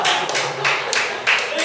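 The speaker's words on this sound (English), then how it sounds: "Appropriate clapping, I like it." Scattered clapping from a small club audience at a meeting: a few light, uneven handclaps in quick bursts, close and moderately loud, with a voice speaking alongside.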